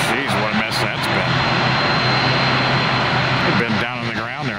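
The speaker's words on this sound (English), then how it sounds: "They've been down on the ground there idling for about 10, 15 minutes, it seems like." Airliner engines idling on the ground at an airport near Tampa, a loud steady jet whine and rumble with a sustained high tone, and people talking over it.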